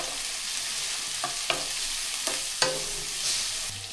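Onions and green chilies fry in a pan for prawn gravy, a steady bright sizzle broken by a few sharp scrapes and clinks of a spoon stirring, close and alone.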